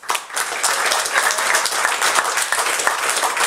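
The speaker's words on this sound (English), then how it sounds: "Round of applause." An audience at a stage show applauds steadily for a few seconds, a dense wash of clapping that starts abruptly and stays even.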